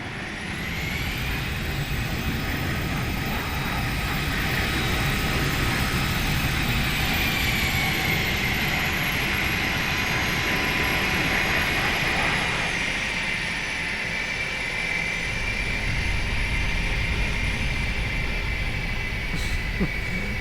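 Airbus A319 jet engines idling as the airliner taxis in a flight simulator game: a steady, even whine and drone that holds for about twenty seconds with no break.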